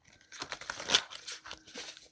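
Tarot cards shuffled in a lap give a soft, quiet run of papery riffling and crinkling, with slightly louder flicks partway through and no talk.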